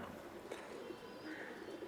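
Pakistani pigeons in a loft give soft, continuous cooing, layered and steady at close range with no talk.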